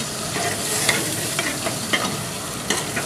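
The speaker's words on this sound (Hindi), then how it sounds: "बस इसको हल्का सा भून लेंगे।" Whole green chillies and round red chillies lightly frying in a pan for beef stew, giving a steady close sizzle with scattered crackles and spoon scrapes as they are stirred, with no talk.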